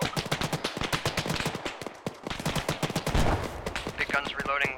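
Rapid bursts of automatic machine-gun fire in the military shooter Arma 3, dense and loud throughout, with clustered shots overlapping other gunfire and faint radio-style voices.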